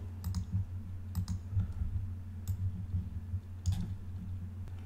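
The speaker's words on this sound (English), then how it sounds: "Right click and make it disappear." Sharp computer mouse clicks, a few sparse taps spaced over a quiet room hum, close and fairly soft with no talking.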